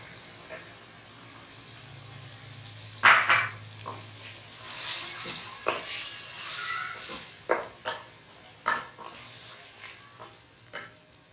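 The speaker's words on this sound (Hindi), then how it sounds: "बस कुछ सेकंड इसको ज़रा थोड़ा सा भूनकर अब हमने इसमें ये चने की दाल ऐड कर देनी है" Rice toasting briefly in a pan before chana dal goes in, for Qaboli rice, gives a faint, patchy sizzle with scattered stirring clinks and scrapes and a sharper burst near the start of the second third.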